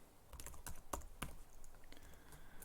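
Keys tapped on a computer keyboard while entering a database command, a quick irregular run of crisp close clicks, fairly quiet and without talk.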